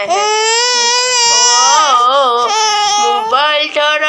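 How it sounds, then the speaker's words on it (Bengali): A baby screams and cries, wanting to grab a mobile phone: loud, close, continuous wailing with rising and falling pitch and brief catches of breath. "মোবাইল ধরার জন্য চিল্লাচিল্লি করছে।"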